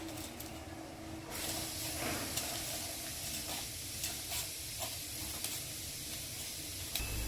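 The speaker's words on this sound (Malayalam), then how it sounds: "തിളച്ചുകൊണ്ടിരിക്കുന്ന വെള്ളത്തിലേക്ക് എടുത്തു വെച്ച കീൻവ ഇട്ട് കൊടുക്കാം" Water bubbles and hisses in a pot as quinoa is tipped in, with soft stirring and scraping noises over the steady boil.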